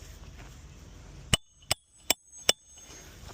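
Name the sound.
hammer driving a nail into roof shingles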